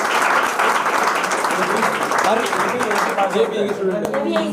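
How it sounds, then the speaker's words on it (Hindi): Audience applause and cheering for actress Anjali at a film promotion event held in an academy, a steady loud crowd ovation with a voice talking over it before it thins toward the end. "हमारी फिल्म में भाई सेकंड लीड एक्ट्रेस में अंजलि जी, इन खातर भी एक बार जोरदार ताली।"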